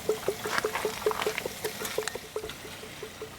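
An RV freshwater pump draws water from jugs with a rapid, regular series of clicking pulses and gurgling, close up and moderately loud.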